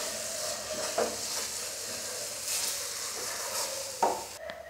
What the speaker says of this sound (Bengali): দিচ্ছি এলাচ পাউডার, ভালো করে মিশিয়ে নিচ্ছি